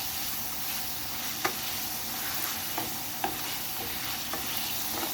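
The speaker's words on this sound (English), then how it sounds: "so I'm trying to fry it a little bit with oil, regular oil" Pork pieces fry in regular oil in a pan for Filipino menudo, a steady close sizzle broken by occasional clicks and scrapes of stirring.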